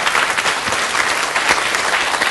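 Dense, loud audience applause at a lecture welcoming voice consultant Kim Chang-ok onstage, a steady wash of clapping filling the whole moment.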